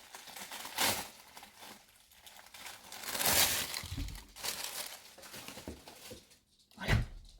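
Crinkly packaging being torn open and handled indoors, with bursts of crumpling and rustling that come and go, loudest in short rough flurries and between quieter pauses.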